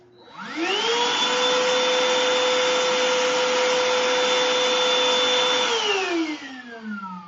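A Black+Decker Dustbuster Pivot 18V cordless handheld vacuum spins up with a rising whine, runs loud and steady close by for about five seconds, then winds down with a falling pitch.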